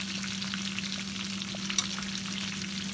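Pork chops fry in olive oil over medium heat, giving a close, steady crackling sizzle with a low hum underneath and no talking.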